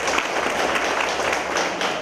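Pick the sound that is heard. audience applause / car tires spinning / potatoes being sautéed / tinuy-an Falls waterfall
audience applause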